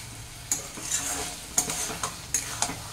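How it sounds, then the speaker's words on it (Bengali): Malabar spinach curry being stirred with mustard oil in a pan on a vegetarian stovetop: a steady sizzle and fry, broken by several sharp scrapes and clinks of a spoon against the pan at irregular intervals, close and alone. "এবার এটাকে ভালো করে নেড়ে চেড়ে সব জায়গায় মিশিয়ে দিচ্ছি সর্ষের তেলটাকে।"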